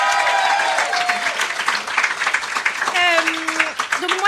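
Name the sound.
audience applause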